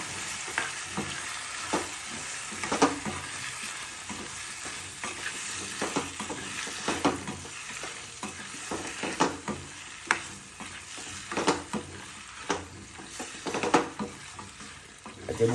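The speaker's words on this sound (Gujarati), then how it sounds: "સરસ બધું મિક્સ કરી લઈએ." Spiced vegetables stirred in a pan with asafoetida, garam masala and salt: a spatula scrapes and knocks in an irregular rhythm over a soft background sizzle, close by and without speech.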